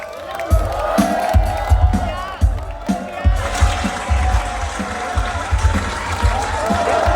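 A crowd at a rally for a senator erupts in loud applause and cheering, with whoops rising over the clapping while an amplified voice carries over the noise.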